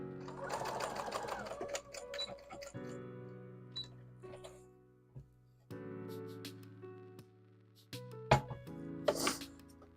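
A sewing machine stitches a stuffed animal plush, running in several bursts separated by short pauses, with brief clicks and handling noises near the end.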